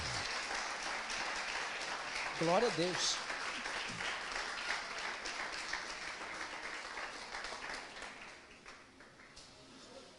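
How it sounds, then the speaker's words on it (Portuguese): Audience applause at a church gathering on evangelism and small groups, steady dense clapping throughout, with a voice calling out over it and the clapping thinning toward the end. "Você consegue aplaudir Jesus?"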